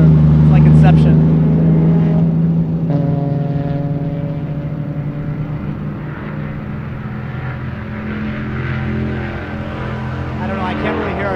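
Fiat race car engine lapping another Fiat in GTA 5, a loud continuous drone that holds a high note before dropping in pitch and steadying, with a voice talking over it.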